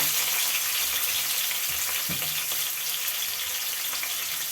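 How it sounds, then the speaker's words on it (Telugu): Green chillies and onions frying in oil for an Andhra-style chicken raw mango curry, a loud steady close sizzle with a faint stir or two and no talk. "తగినంత నూనె పోసుకున్నాను పచ్చిమిర్చి ఉల్లిపాయలు"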